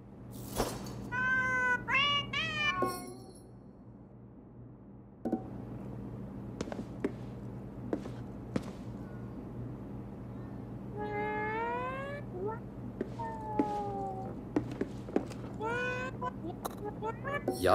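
Nekomata cat creatures in Ghostwire: Tokyo give several sets of meows with rising and falling pitch, loud and close, separated by short taps and clicks over a steady game background hum.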